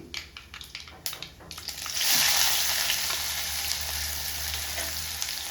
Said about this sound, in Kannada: ಈ ಟೈಮ್ದಲ್ಲಿ ನಾನು ಈರುಳ್ಳಿ ಹಾಕ್ತಾಯಿದ್ದೀನಿ